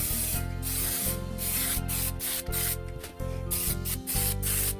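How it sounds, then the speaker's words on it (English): Cooking spray hisses onto muffin tins in short repeated bursts, each spray a close, sharp blast separated by brief pauses in a quiet kitchen. "get out our muffin tins. And grease those or spray."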